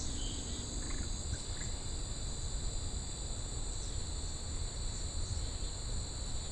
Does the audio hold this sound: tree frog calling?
yes